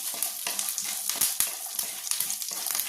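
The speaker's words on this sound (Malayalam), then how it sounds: "ഇത് പച്ചക്കപ്പലണ്ടിയാണ് അതും കൂടി ഇട്ട് കൊടുക്കുകയാണ്" Raw peanuts roast in a pan while being stirred, giving a close, continuous sizzle dotted with quick scraping and rattling strokes; nobody speaks.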